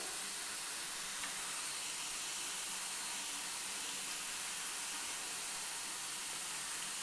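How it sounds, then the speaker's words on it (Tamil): Potato snacks deep-fry in oil over a low flame, giving a steady, even sizzle that hisses on without a break. "சலசலப்பு எல்லாம் போகட்டுங்க. அது வரைக்கும் பொரியட்டுங்க."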